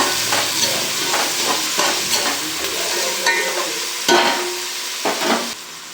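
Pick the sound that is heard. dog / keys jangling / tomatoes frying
tomatoes frying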